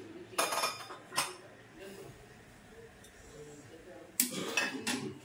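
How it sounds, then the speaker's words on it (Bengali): Plates and pots clatter and clink at a kitchen sink during dishwashing, with sharp bursts near the start and again near the end, quieter handling in between. "আর ততক্ষণ আমি থালাগুলো ধুয়ে নিই"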